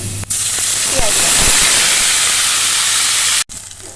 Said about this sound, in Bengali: এবার তেলটা গরম হয়ে আসলে আস্ত কাঁচা জিরা এরকম ফোড়ন দিব